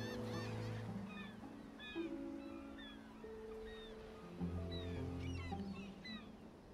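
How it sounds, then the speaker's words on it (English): Seagulls call in the ambient soundscape of a city-building game, scattered short cries over low sustained horn-like tones, all quite faint. "So the seagulls are too loud?"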